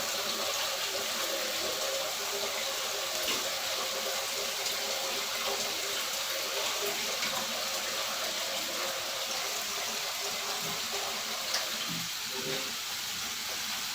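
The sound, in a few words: water poured into pot for chicken tinola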